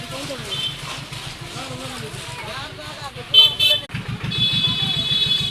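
Auto rickshaws wait in a jammed street with a steady engine rumble, while a couple of horn toots sound midway and near the end under nearby voices.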